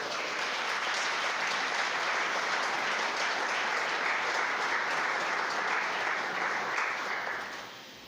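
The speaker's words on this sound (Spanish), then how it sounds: "Fuerte el aplauso para el Señor." A church congregation at a women's seminar applauds loudly and steadily for several seconds, a thick, even roar of clapping that fades quickly at the end.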